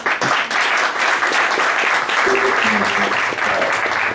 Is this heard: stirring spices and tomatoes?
no